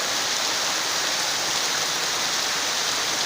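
Rain falling on a Sunday evening around six, a dense, even hiss of steady downpour with no gaps or voices.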